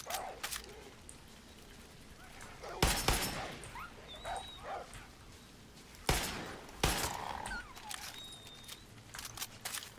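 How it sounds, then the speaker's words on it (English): Rottweilers in Far Cry 6 give sporadic barks and whimpers amid intermittent loud bursts of gunfire and impacts, the dog sounds fairly faint and scattered across the stretch. "Cute little Rottweilers."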